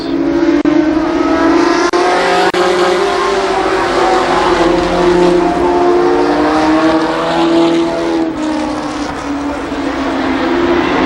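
Race cars at Columbus Motor Speedway in a 1993 race roar past in a loud sustained pack, engine tones rising and falling as they sweep by, with no voices.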